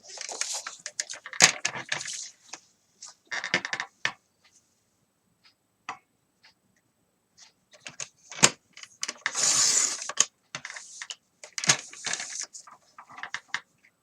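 Paper being cut for a handmade mini album with a hidden hinge, heard as scattered short crisp strokes and rustles that come in bursts with quiet gaps between them.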